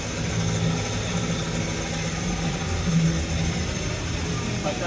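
A warmed-up Suzuki DA64W turbo engine idles with a steady, low mechanical hum and faint vibration, running evenly at close range.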